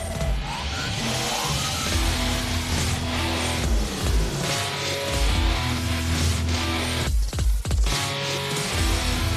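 Rally cars corner hard on a stage of the Jänner Rallye, engines revving and dropping in quick surges with gear changes, loud and close, and a couple of abrupt bursts near the end.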